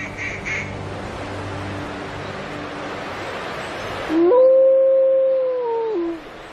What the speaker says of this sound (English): Her howls identify her as an available